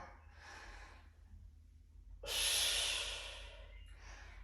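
A Pilates instructor breathes during a reformer exercise. One loud, airy inhale stands out midway, with softer breaths before and after it, close and clear against a quiet room.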